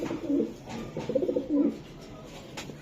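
Racing pigeon coos softly nearby in a few low, throaty rolling phrases against a quiet background.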